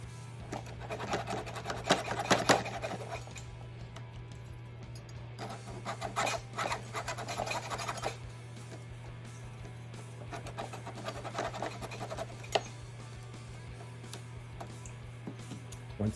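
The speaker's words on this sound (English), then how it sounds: "we'll just take our file, a good rough file, brand new file, Harbor Freight, and cleaned it out a little bit" A brand-new, rough Harbor Freight hand file smooths a freshly hacksawed cut on a Propel Endeavor Pro motor end bushing, producing bursts of raspy scraping strokes over a steady low hum.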